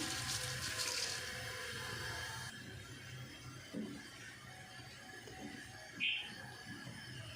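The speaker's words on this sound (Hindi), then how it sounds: "पानी में बॉयल आ गया, अब इसमें चावल ऐड कर देते हैं।" Soaked rice goes into a pot of boiling water for a pea pulao, a soft watery bubbling and pouring wash, faint and close in a home kitchen, with a couple of small clinks.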